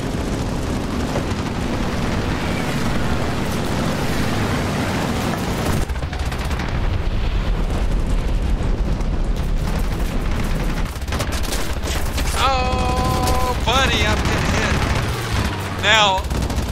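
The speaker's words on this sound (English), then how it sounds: "there's a huge difference between 2 and 4 machine guns." Aircraft machine guns fire in War Thunder, a dense, continuous rattle of bursts that runs loud through most of the stretch, with a player's voice chattering over the gunfire toward the end.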